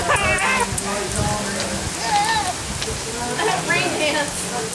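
Steady rain patters on a hard surface throughout at Lake Thunderbird, with several people talking and exclaiming excitedly over the downpour.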